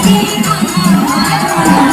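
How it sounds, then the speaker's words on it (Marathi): A dense crowd roars and cheers at a Dahi Handi festival in Ambernath, 2024, the noise loud and continuous, with no break over two seconds. "अंबरनाथकरांचा जल्लोष आहे"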